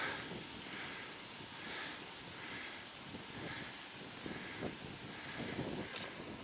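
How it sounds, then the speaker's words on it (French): Steady wind rushes through old mountain trees, a soft broadband whoosh that swells and eases in gentle gusts, with no voices. "il y a du vent"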